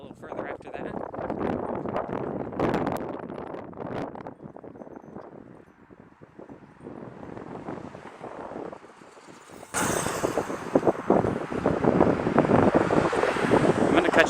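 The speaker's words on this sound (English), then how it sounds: "the wind's blowing right into us and I don't think you can hear anything anyways" Strong wind buffets the microphone while walking outdoors through city streets: a continuous, loud rumbling roar that grows stronger near the end, with muffled voices partly buried underneath.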